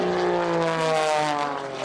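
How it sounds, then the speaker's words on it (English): An MX2 aerobatic airplane's engine roars loud and steady through airshow maneuvers at the Florida International Airshow, a continuous buzzing drone that wavers slightly in pitch. "Now there'll be times when you'll watch very close this airplane up into maneuvers the airplane doesn't want to be."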